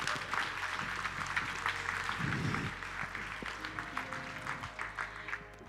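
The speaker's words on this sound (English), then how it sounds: "So please, can you give a huge round of applause for Mr." Audience applause at a TEDx education event in Luxembourg City, a steady crowd clapping that holds for several seconds with no talk over it.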